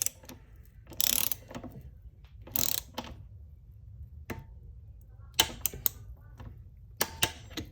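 A hand ratchet tightens a nut during a 4L60E automatic transmission rebuild, giving a few short bursts of quick metallic clicking separated by quiet stretches and isolated ticks.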